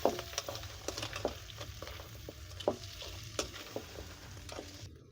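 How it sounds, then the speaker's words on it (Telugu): Large crabs are stirred as they fry in a pan for crab curry, giving a faint continuous sizzle broken by repeated sharp scraping and clattering strokes at an uneven rhythm. "ఇలాగ వేసిన తర్వాత ఇలాగా కలుపు కలుపుకుంటూ ఉండాలి ఫ్రెండ్స్"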